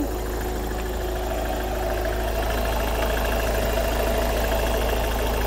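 A Citroën Jumpy 2.0 HDI diesel engine idles steadily, heard close and loud with an even low rumble and a faint rhythmic clatter throughout.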